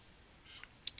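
A couple of quick, faint clicks of a computer mouse sound close by against a quiet background.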